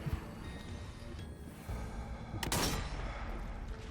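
A gunshot fired in the VR shooter Zombie Army VR, a single sharp loud blast with a brief broadband burst standing out over steady game background noise.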